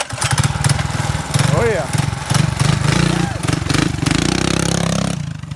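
A Honda minibike engine in Repsol factory livery buzzes and revs hard nearby with rapid throttle blips and steady high-rpm running throughout. Excited voices shout over the engine.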